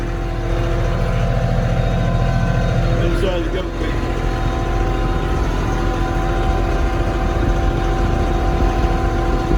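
A tractor engine runs steadily and loudly while moving a round bale of hay into a goat pen on a farm. Someone talks over the constant rumble.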